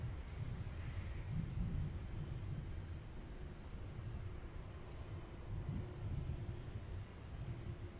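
A Frontier Airbus A320 airliner passes at an airport, heard as a steady, moderately loud low jet rumble with a broad roar that holds evenly throughout, with no voices.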